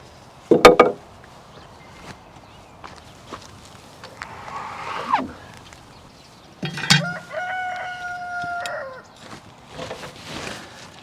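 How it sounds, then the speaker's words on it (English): A rooster crows loudly nearby, with hens clucking and squawking in short bursts between quiet gaps. "I've been letting the chickens out to roam, and they have been extra loud"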